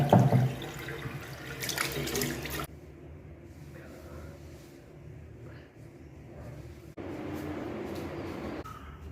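Tap water runs into a sink while someone washes their face, a steady close splash loudest at the start then settling into a softer continuous flow with another surge near the end.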